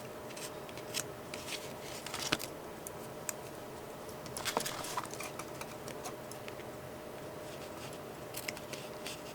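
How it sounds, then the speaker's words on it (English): Scissors snip excess paper off a booklet made from envelopes, heard as faint close crisp cuts and rustles spread across a quiet background, with no speech. "I'm just going to snip off the overage here."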